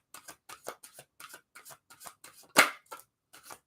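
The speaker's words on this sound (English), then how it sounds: "she's really having me shuffle this deck" A deck of oracle cards shuffled by hand during a live card reading, giving a close, steady run of short papery flicks and slides with one louder slap near the end, no voices over it.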